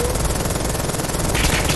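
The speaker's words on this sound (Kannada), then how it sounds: "ನನ್ನ ಹತ್ರ ಮಿಷಿನ್ ಗನ್ ಇದೆ" Machine-gun fire in the WW2 shooter game Polyfield: a dense, loud, unbroken stream of rapid automatic shots lasting the whole moment, with gunfire-like crackle throughout.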